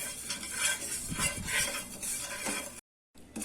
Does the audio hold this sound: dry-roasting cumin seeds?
yes